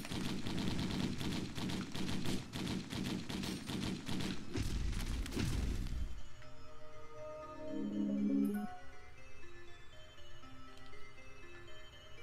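Rapid video-game gunfire in Risk of Rain rattles in quick, continuous bursts of sharp shots for about six seconds, then stops, leaving quieter game sounds and music.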